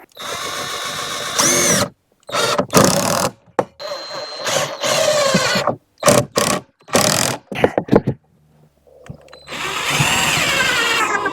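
Power drill driving a screw into the wooden frame of a 5-gallon bucket container garden planter, heard as a series of short whirring bursts with pauses between, close by and loud.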